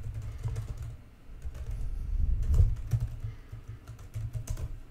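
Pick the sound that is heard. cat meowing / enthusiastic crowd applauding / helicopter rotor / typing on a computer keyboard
typing on a computer keyboard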